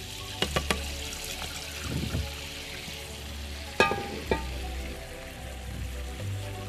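Oil heating in a frying pan on a stove, ready for cooking rabbit, gives a soft steady sizzle with a few sharp clinks and knocks of pan or utensil, moderately close, with no talking.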